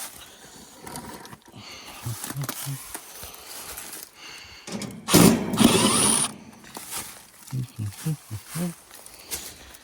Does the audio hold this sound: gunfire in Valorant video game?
no